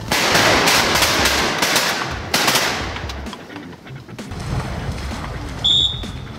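Shotguns fire at specklebelly geese on a hunt near Stuttgart, Arkansas, a loud volley of rapid overlapping blasts that fades, then a few more distant shots and a faint call.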